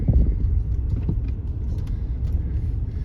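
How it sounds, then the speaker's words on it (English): Cars pass along a road, a continuous low rumble of traffic that swells briefly near the start and then settles into a steady hum, with no talking. "There's cars coming"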